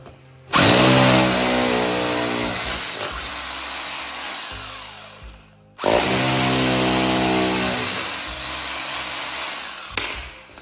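Rotary hammer drill boring through a laminated chipboard floor, two long loud grinding bursts with a brief pause between them and a short tail at the end.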